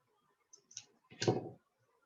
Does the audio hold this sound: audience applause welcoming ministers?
no